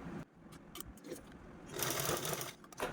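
Sewing machine stitching a folded fabric handle for a sankranti gift bag, a steady mechanical whirr of rapid needle strokes that stops briefly and then resumes louder.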